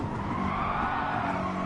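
A car braking hard in the racing game GT Sport, a loud continuous tire squeal and skid over engine noise, held for the whole short moment.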